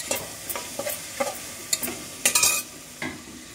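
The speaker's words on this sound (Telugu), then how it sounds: "ఉల్లగడ్డ, బీన్స్, కాలీఫ్లవరు వేసుకొని కలయి పెట్టాలి." Potato, beans, cauliflower and other vegetable pieces are stirred in a pot for veg biryani, a spoon scraping in quick irregular strokes over a soft sizzle.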